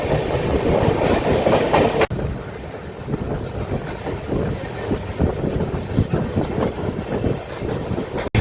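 Kriya Yoga Express passenger train running through Santragachi Junction on the Howrah to Ranchi route, heard from on board as a steady loud rumble with rhythmic clickety-clack of wheels over rail joints and no talk.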